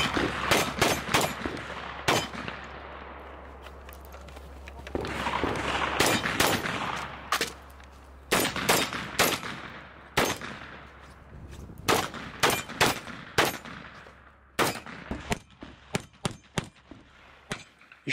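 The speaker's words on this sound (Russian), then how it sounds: "Здесь стрельба в движении, здесь стрельба на входе" Gunfire at a shooting practice exercise, with sharp single shots and quick bursts cracking out in irregular clusters over a low steady hum, fairly close and loud.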